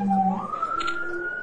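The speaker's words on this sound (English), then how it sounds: "Here comes sirens." A siren sound effect in an online Hi-Lo table game, a moderately loud electronic wail that slides upward in pitch and holds, heard alone for a moment with no talking.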